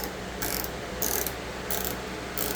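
Ratchet wrench clicking in four short bursts as it loosens Allen screws on a Honda CB650R motorcycle tank, crisp mechanical ratcheting close up with pauses between strokes and no talking.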